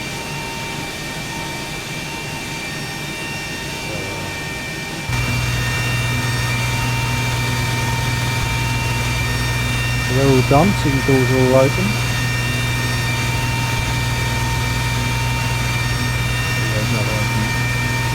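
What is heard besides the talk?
airliner jet engines idling, from video game X-Plane 12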